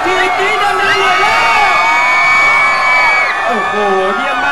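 Outdoor concert audience in Phuket, Thailand, shrieking and cheering louder on request, a dense continuous roar of high-pitched screams and whoops from a large crowd.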